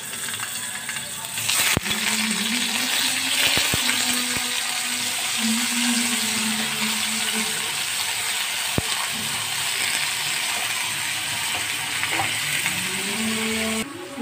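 Eggplant slices fry in hot oil in a pan, giving a steady, close sizzle throughout with a few sharp clinks and scrapes of utensils.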